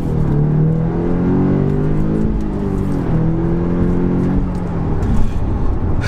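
Audi S3 pulling away under hard acceleration, a steady close engine drone rising in pitch through several gear steps with a constant whirring undertone.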